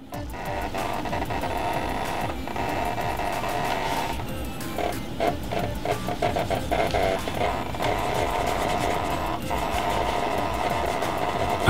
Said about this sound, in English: A lot of people don't know that that sound is actually from the haptic motors